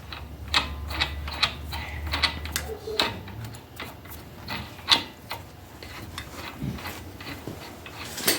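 A wrench or ratchet works on a car hub nut during spark plug wire and ABS sensor repair: a string of quick mechanical clicks and ratcheting ticks in uneven bursts, close up and fairly faint.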